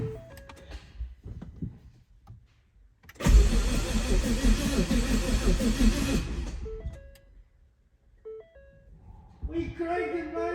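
A custom twin-turbo 2018 Ford Mustang GT cranks and fires up for the first time, a loud burst of engine roar lasting about three seconds close by, then cutting out, with voices talking before and after in a garage.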